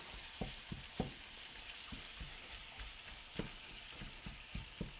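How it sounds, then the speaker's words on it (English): Meat fries in a pan for sopitos, a Mexican dish, with a steady crackling sizzle and a series of sharp utensil clicks scattered through the sizzle; close and moderately quiet, with no talk. "you just let it fry or cook for a few minutes until golden brown"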